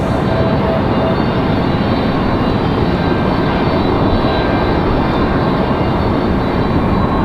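A Southwest jet airliner landing at Raleigh-Durham airport, its engines a loud, continuous broadband roar that holds steady throughout, with no voices over it.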